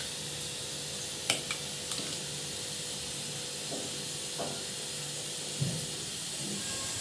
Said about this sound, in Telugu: పచ్చడికి పోపు వేయడం కోసం ఆయిల్ ఎక్కిన తర్వాత శనగపప్పు, మినపప్పు, ఆవాలు, జీలకర్ర, ఎండుమిర్చి వేసుకోవాలి.